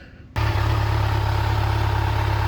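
A 2020 Kawasaki Z900 motorcycle idles steadily after a sudden start, its engine running at an even, close and loud hum with a constant low drone and no speech.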